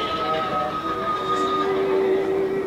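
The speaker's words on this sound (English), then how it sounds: "The Big Thunder Mountain Railroad." Big Thunder Mountain Railroad, a mine-train roller coaster at a Disney park, heard as a steady rolling rumble with a sustained high whine, constant and fairly loud throughout with no talk.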